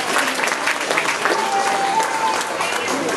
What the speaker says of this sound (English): they were clapping, but they don't sound impressed